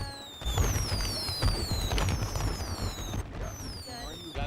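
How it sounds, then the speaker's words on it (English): Video-game fireworks set off in a roleplay session pop and crackle repeatedly throughout, with whistling rising streaks layered over them, while people talk over the bursts. "Put down a bunch of fireworks too."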